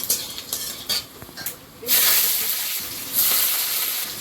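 Dried red chillies sizzle in hot oil in a pan, a steady bright frying hiss that swells louder partway through, with faint stirring or utensil clinks early on.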